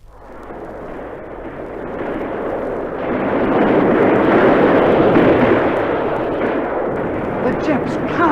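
Rocket bombardment before a wartime beach landing, a heavy rumbling roar of massed explosions that swells from a low start to a sustained loud peak and stays dense throughout, with a voice faintly underneath.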